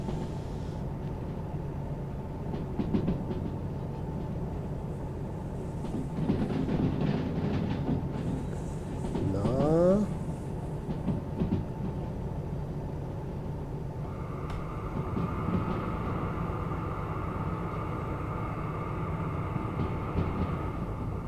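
Train rumbling along in the game Derail Valley, a steady low roll with scattered clanks and a brief squeal, moderately loud and without talk.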